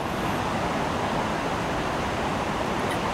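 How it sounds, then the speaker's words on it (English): Water rushes steadily through a rocky creek, a dense, continuous broadband wash at constant loudness with no pauses or other sounds. "Just listen to that water."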